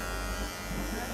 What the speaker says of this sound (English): We're gonna just do with a clipper overcomb it.